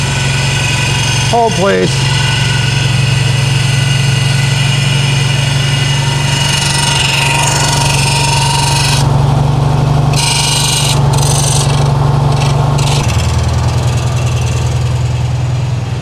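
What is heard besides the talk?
1968 VW Karmann Ghia engine idling cold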